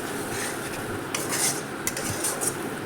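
Chicken cooked in spice masala is stirred in a frying pan, a utensil scraping and clinking steadily against the metal over a soft continuous sizzle, close and alone with no talking.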